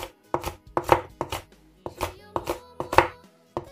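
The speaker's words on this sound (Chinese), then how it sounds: "接着改刀切成细丝" A knife chops a red chili pepper into thin strips on a cutting board, about ten crisp, close strikes in a steady, slightly uneven rhythm with short pauses between them.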